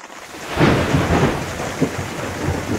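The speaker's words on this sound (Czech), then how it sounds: "Bouřka se chvílí. Bude to zajímavé." Thunder rumbles loudly over steady rain during a storm in the Baltics, heard from a Fiat 500 minicamper, with swelling rolls and a sharper crack near the middle and no voices.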